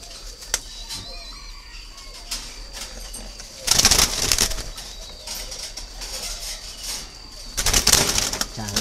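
Doves being caught by hand, an older bird taken first: two loud bursts of wing flapping about four seconds apart, with faint bird sounds and quiet background noise between them.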